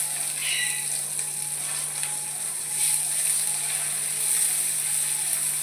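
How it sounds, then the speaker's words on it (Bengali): Onion fries in a pan for a nonveg moong dal, a steady close sizzling hiss running throughout without talk. "আগে পেঁয়াজটা দিয়ে দিলাম।"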